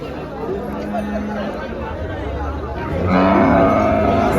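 A cow moos twice, the second a loud, long low call, over the chatter and hubbub of the crowded Dhule cattle market.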